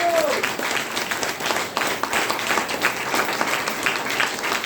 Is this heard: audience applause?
yes